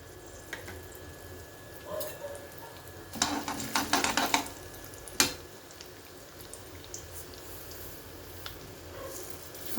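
Urad dal and mustard seeds go into hot oil for temple-style pulihora tempering, a quiet background hiss broken by a brief crackling sizzle burst and one sharp clack from a pan or spoon.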